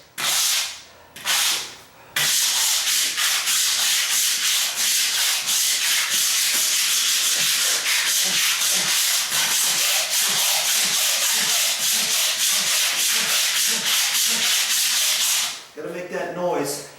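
A long-handled razor scraper drags steadily across a surface in rapid, rhythmic back-and-forth strokes, loud and close, running continuously for about thirteen seconds after a couple of short opening passes, then stopping.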